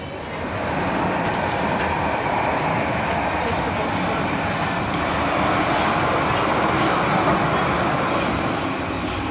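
Overnight train out of Oslo running along at a steady, loud rumble, a continuous broadband roar of wheels and carriage noise that holds for the whole stretch with no breaks.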